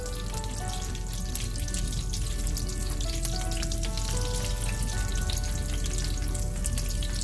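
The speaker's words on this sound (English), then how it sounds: "As that begins to brown, I'm going to add the dried red chilies." Dried red chilies fry in hot oil for an okra and lentil sambar, giving a constant dense sizzle and crackle that carries on unbroken from start to finish with no voices.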